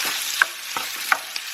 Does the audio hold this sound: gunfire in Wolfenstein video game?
no